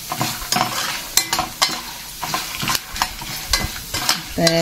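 Green peanuts are roasted in a pan, with a utensil stirring and scraping in irregular bursts over a soft dry sizzle, close up and without talk.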